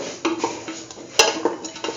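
A spoon mixes curried beetroot chickpea coconut dip seasoned with salt and chili powder, tapping and scraping against the bowl in irregular clinks, with one sharp clink standing out near the middle.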